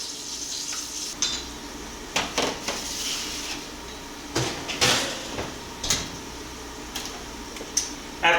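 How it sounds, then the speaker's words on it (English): Herb-roasted potatoes being flipped on a metal roasting pan before it goes back into the oven: scattered clinks, taps and scrapes in irregular bursts over a faint continuous sizzle, close and moderately loud, with no talking. "I want to go ahead and flip them and then put them back into the oven"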